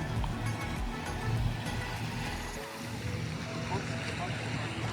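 A boat on the sea near Phi Phi Island in Thailand: a low, steady engine rumble mixed with wind buffeting and water wash, heard close and continuous throughout.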